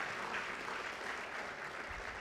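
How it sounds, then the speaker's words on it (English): Applause from the crowd at a youth soccer club's senior night, honoring the coach: a steady, even wash of many hands clapping at moderate distance, fairly quiet and continuous with no voices standing out. "I want to give Eric Lona a real big round of applause from everybody"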